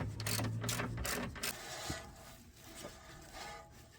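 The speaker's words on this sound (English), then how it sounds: "18mm spanner to lock the nut, which is at the top of the subframe" Ratcheting clicks of an 18mm spanner on a subframe nut at the top of a Nissan Leaf's lower suspension wishbone, heard as several loud, close clattering mechanical bursts with metallic rubbing and no talk.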